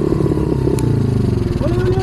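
A motorcycle engine runs steadily up close, a loud continuous rumble with a brief clatter partway through.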